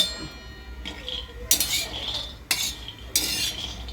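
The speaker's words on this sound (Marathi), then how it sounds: "शेंगदाणे आपण भाजून घेऊया" Dry peanuts tossed and stirred in a pan while roasting for homemade peanut chutney, giving a few scraping, rattling bursts with light metallic clinks against a low background hum.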